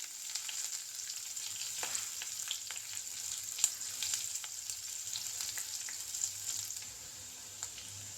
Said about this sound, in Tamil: இப்போ கடுகு உளுத்தம்பு பொரிச்சிச்சு அது கூட ரெண்டு காஞ்ச மிளகாய் கொஞ்சம் சின்ன வெங்காயம் போட்டுக்கலாம்